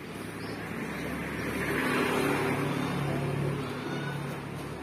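A Chevrolet car engine, a petrol car engine rather than a diesel, idles inside a tourist tram bus, giving a smooth, low, steady hum at close range that swells slightly and then settles, with no talking.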